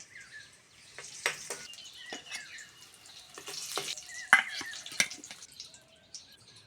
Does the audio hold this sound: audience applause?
no